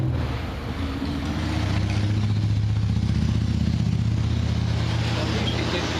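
A motorcycle engine rumbles nearby, growing louder as it approaches and holds a low, throaty drone against outdoor background noise.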